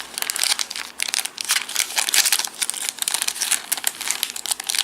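Game cards being slid back into a resealable plastic pack, with loud, close, continuous crinkling and rustling of the plastic in irregular bursts.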